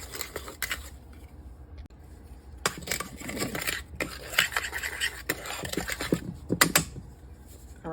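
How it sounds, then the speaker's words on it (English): A spoon stirs a bowl of seasonings for spicy honey mango chicken wings, including black pepper, Tajin and green goddess seasoning, making close, intermittent scraping and clinking bursts with quiet pauses between strokes. "And then I want to give this a quick stir."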